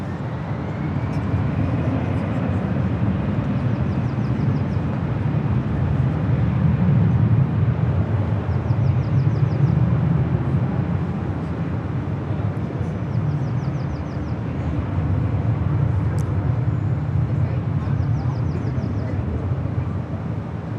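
A Delta Airlines jet arriving from San Antonio at LAX roars as a broad, steady low rumble that swells and eases over about twenty seconds, heard from a distance.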